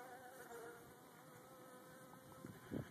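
Honey bees buzz faintly and steadily during a hive installation with a caged queen, a soft continuous drone close by, with a few light handling bumps near the end.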